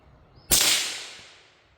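A single sharp, loud suppressed rifle shot firing subsonic 5.7 ammunition, a crack with a broad hissing burst that decays gradually over about a second, heard alone without voices.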